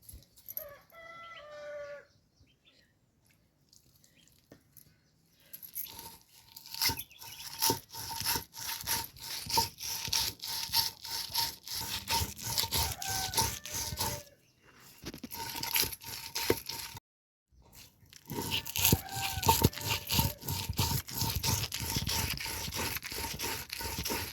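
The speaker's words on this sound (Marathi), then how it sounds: "आणि बघा आता नंतर लसूण वाटायचा." Garlic ground by hand on a traditional flat grinding stone, a steady run of rough scraping strokes that fills most of the stretch, with a rooster crowing and clucking nearby at the start and in the background.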